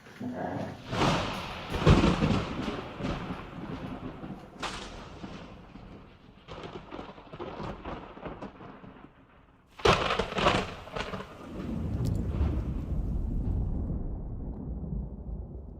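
Heavy thunder rumbles and booms before a downpour during a power outage, rolling deep and long with a sharp crack partway through and sustained low rumbling afterward, with no one talking.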